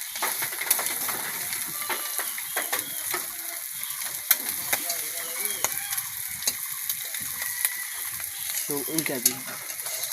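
An egg fries in a pan with a moderate, crackling sizzle. Sharp ticks and scraping from the utensil come through at intervals.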